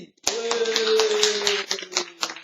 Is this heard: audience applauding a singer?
yes